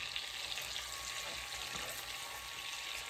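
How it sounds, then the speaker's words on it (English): Chicken Alfredo ingredients sauteing in a pan, a steady close sizzle and crackle of frying with occasional stirring scrapes, no talking. "Kind of going to let that saute in there a little bit."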